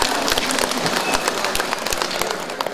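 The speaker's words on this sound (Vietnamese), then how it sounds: "Hôm nay tự cho mình một tràng pháo tay" An audience at a Kathina Buddhist ceremony at a temple in Vinh Long claps in a dense, steady round of applause that sounds like a patter of rain and holds throughout.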